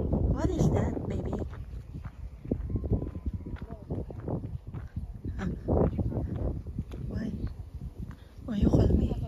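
Strong gusty wind on a mountain buffets the microphone in bursts of low rumble, with people talking over it.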